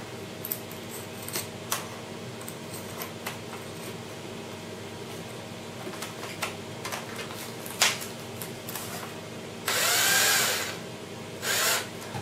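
A power drill whirs in a one-second burst, then a shorter one, after quiet clicks and handling noises.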